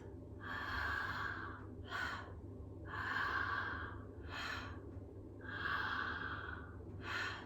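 Rhythmic breathwork rounds of quick, airy inhales and exhales repeat close to the microphone in a circular pattern, each long rushing breath followed by a shorter sharp one, with no talking.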